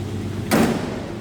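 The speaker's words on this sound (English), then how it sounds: "Door closes nicely." A single solid thump of a 1963 AMC Rambler Classic 550 two-door sedan's door shutting midway, brief and fairly close, over a low steady background hum.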